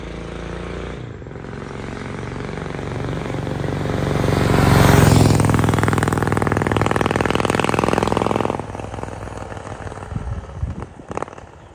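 A Royal Enfield parallel-twin motorcycle engine runs nearby with a steady throbbing idle, swelling louder for a few seconds before settling back, alone without speech.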